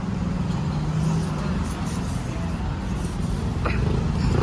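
Congested street traffic in Thailand, a steady near rumble of idling and creeping cars and buses with a brief hiss partway through, running continuously at an even level.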